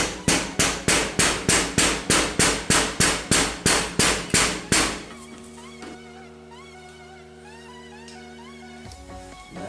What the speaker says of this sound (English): give a little tap with a hammer and they go in.